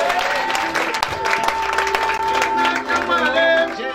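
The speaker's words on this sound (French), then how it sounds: "Can we clap?" Church congregation applauding during a Sunday worship service, steady crowd clapping that carries through the whole moment alongside sustained music tones, with a voice briefly audible under it.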